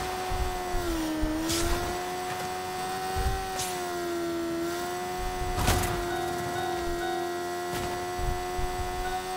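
A motorbike engine in a video game gives a continuous droning hum whose pitch dips and rises as the bike bogs down, with a few brief louder bursts over the steady tone.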